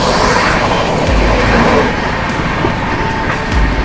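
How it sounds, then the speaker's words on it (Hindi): Express train running at speed while overtaking another train, a loud, continuous rumble and rattle of wheels on rails heard up close, steady throughout with no talk. "Overtaking Nandankanan express."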